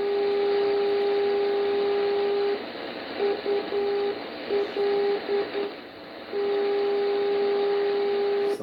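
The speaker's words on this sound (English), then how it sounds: "So this is a non-directional beacon on 248 kilohertz." A long-wave non-directional beacon on 248 kHz: a steady radio whistle tone over constant static, briefly broken into short on-off pulses before the continuous tone returns.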